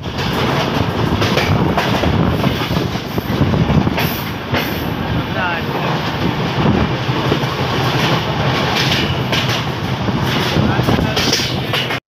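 The Sagardari Express rumbles toward Jessore station with a continuous loud rolling roar and rattling carriage clatter, heard from on board.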